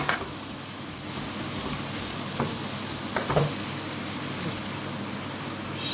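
Pre-cooked prawns frying in a pan, a dense, even hiss of sizzling oil throughout with a couple of brief stirring clatters, close and moderately quiet.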